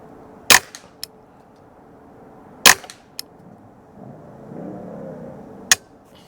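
Three sharp, well-spaced rifle shots from a Ruger 10/22 fitted with an 18-inch EABCO accuracy barrel, each a short crack with a brief echo, fairly quiet for gunfire, and a faint low rumble between them.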